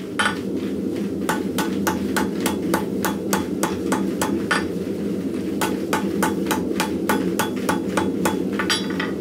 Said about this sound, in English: I'm just doing random hammer blows